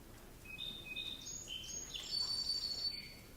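A swamp sparrow sings thin, clear whistled notes and trills, moderately near and alone over a faint steady background hiss.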